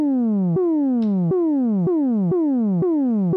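A synth tone repeatedly swoops downward in pitch, then snaps back up, about six even cycles, a buzzy sawtooth siren-like wail, loud and alone.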